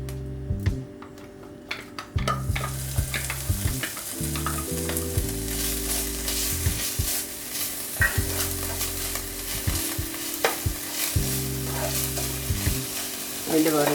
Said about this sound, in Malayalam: എന്നിട്ട് ആദ്യമായിട്ട് നമ്മൾ ആ ഇഞ്ചിയും വെളുത്തുള്ളിയും ചതച്ചത് ഇതിലോട്ട്,